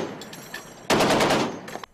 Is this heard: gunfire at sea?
yes